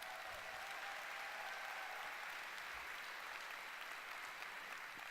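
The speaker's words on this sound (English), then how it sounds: "give yourselves a round of applause" Conference audience applauding themselves at a keynote, a faint, distant, continuous wash of clapping from a large crowd.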